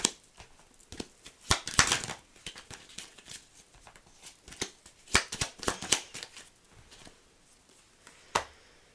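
Tarot cards are shuffled by hand close up, giving bursts of crisp riffling and slapping with irregular pauses between them and no talk.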